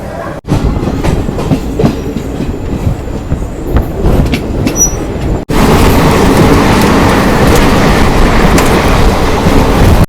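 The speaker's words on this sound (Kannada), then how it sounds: "ಒಳಗೆ AC ಒಳಗಿದ್ರೂ ನಮಗೆ ಅದು ICF ಟ್ರ್ಯಾಕ್ ಸೌಂಡ್ ಕೇಳತ್ತವ್ರಿ" A Secunderabad–Yeshwantpur Garib Rath Express ICF coach runs on the track, heard from inside the AC coach as a loud steady rumble with rhythmic clickety-clack of the wheels, getting louder and harsher partway through.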